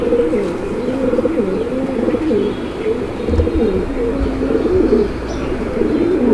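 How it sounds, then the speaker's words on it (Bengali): Fancy grizzle pigeons coo in low, rolling, repeated phrases close by, a continuous soft burbling chorus with a few faint chirps and a light flutter. "পুরা কবুতরটা আমি আপনাদেরকে দেখাই দেওয়ার চেষ্টা করতেছি"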